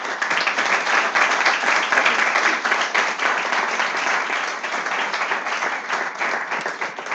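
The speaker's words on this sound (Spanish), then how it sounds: "Gracias a Almudena y a Jorge, creo que se merecen un aplauso." An audience applauds after a lecture on populism in Spain, dense steady clapping from a full room that continues for several seconds.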